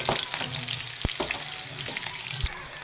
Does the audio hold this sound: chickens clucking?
no